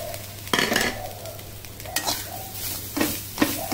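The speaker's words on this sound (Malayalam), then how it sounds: "തേങ്ങ വറുക്കാം." Grated coconut being stir-fried in a pan on a gas stove, with soft steady sizzling and a few sharper scrapes and stirring clinks at irregular intervals, close by and with no talk.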